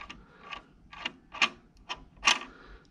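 Several sharp mechanical clicks and ratcheting ticks at a steady rhythm, close and fairly quiet, as the blade holder on a Prismcut P28 vinyl cutter is loosened; no voices.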